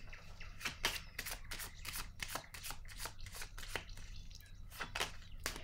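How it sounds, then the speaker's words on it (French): Tarot cards being shuffled, a quiet run of crisp riffling and flicking strokes in a steady uneven rhythm, close and alone with no talk, ending as a card is drawn. "Attendez, je vais piger une autre carte."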